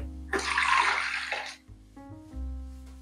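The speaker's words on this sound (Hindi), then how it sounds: "एक कप दूध डाल देंगे।" Milk pours into a kitchen grinder jar in a brief splashing rush of about a second, followed by quiet and faint clinks.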